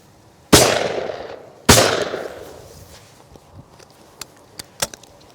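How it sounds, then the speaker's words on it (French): Two loud, close shotgun blasts about a second apart from a Browning B525 GL Hunter 12-gauge over-under shooting clay targets outdoors, each with a decaying tail, followed by a few faint light clicks from the action and ejectors. "Donc nous tirons quelques plateaux avec ce nouveau fusil."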